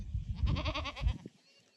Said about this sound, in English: Come on, goats! Come on, goats!